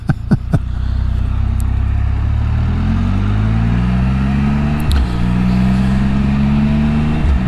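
Vehicle engine driving along a country road, a loud steady drone with rising pitch sweeps as it shifts and accelerates, a few knocks at the start and a brief dip midway, no talk.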